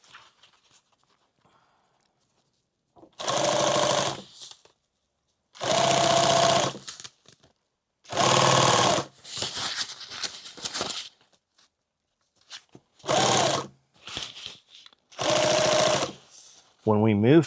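A sewing machine stitches a seam on a medical backpack in about six short, loud bursts of rapid rattling, separated by quiet pauses and a few faint handling noises.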